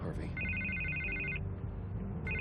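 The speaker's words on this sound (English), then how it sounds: "I can't get the phone to stop ringing." A telephone rings in a Batman video game on Xbox One X, a bright electronic trill repeating in bursts over low background sound and a voice speaking.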